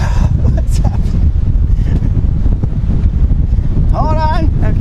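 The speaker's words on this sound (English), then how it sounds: "It's too windy." Strong wind at Port Canaveral roars and buffets the microphone in a heavy, constant rumble, with a brief high whine near the end.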